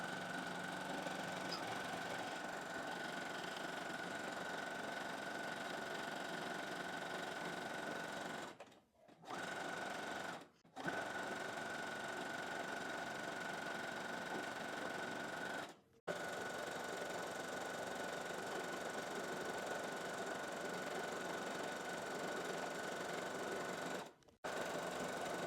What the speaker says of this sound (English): I'm just gonna sew over it twice to make sure the stitching here is not coming undone again.